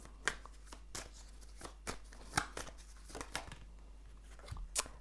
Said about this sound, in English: I'm going to shuffle a little bit more about who misses you.